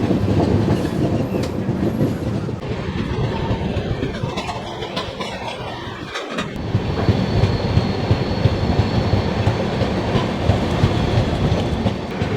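The 13413 Farakka Express runs along the rail line toward Varanasi, a loud continuous rumble of wheels with clickety-clack and a brief dip in the roar midway before it resumes strongly.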